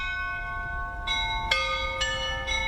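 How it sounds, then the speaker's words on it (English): Church bells ring out the Ukrainian national anthem in Kyiv, several clear, sustained bell strikes sounding one after another at a steady pace, moderately distant and ringing over a faint hiss. "church bells playing the Ukrainian national anthem."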